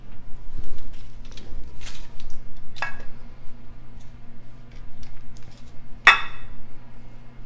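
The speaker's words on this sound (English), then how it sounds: "I'm going to just spoon this in the baking dish, and then we're going to spread it out." Lemon bar crust spooned into a baking dish, a few sharp clinks of a spoon against the dish scattered over quiet scraping, with a steady low hum underneath.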